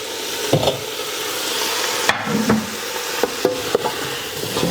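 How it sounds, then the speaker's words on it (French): Mushrooms stirred into a sizzling vegetarian chili spiced with cumin: a steady frying hiss broken by several sharp spoon knocks and scrapes against the pot, close and fairly loud. "Je viens rajouter les champignons."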